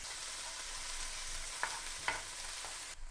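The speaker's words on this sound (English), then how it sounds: "Sauteing the onion in the remaining bacon fat with just a little bit of salt." Onion sautéing in leftover bacon fat with a little salt gives a steady, soft sizzle throughout, with a couple of brief scraping stirs and no talking.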